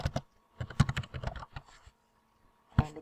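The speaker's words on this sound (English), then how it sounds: "you do that by typing in mail dot" Bursts of typing on a computer keyboard, close and crisp: clustered key clicks with short pauses and a final pair of sharp strikes, as if entering a mail domain, with no voice over it.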